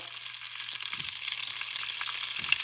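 Chopped ham fries in a pan with a steady, even sizzle that carries through the whole stretch, with a couple of faint low knocks underneath and no voices.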